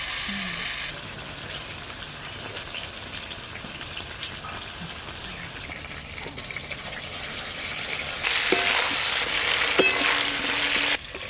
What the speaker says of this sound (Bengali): মেটে আলুগুলো বেশ লাল লাল করে ভাজা হয়ে গেল